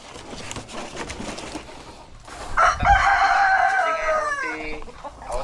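A Dekalb Brown rooster crows loudly and close in a long cock-a-doodle-doo over a background of chickens clucking at a poultry farm in Paniqui, Tarlac.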